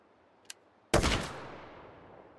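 A single loud FRF2 sniper rifle shot firing a 7.92x61 round into a gel block, preceded by a faint click and followed by a long decaying echo.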